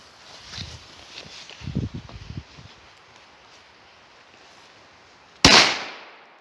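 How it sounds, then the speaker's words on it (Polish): A single sharp bang from a Match Cracker firecracker set at a tree root rings out near the end with a fast-fading tail, preceded by soft rustling and a few footstep-like thumps. "Tak więc petardki, jak na swoją gramaturę, dają radę."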